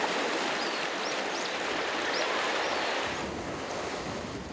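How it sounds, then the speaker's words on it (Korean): Strong gale blowing over the sea around Suudo island near Tongyeong, a dense, steady roar of wind and crashing waves with faint bird calls, close and loud throughout without speech. "밤새 수도엔 강풍이 몰아쳤습니다."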